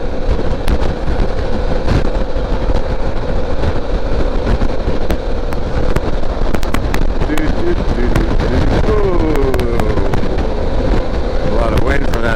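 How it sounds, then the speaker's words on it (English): A truck passes along the road with a loud roar, and heavy buffeting wind rushes over the microphone. A voice speaks under the din. "A lot of wind from that truck, eh?"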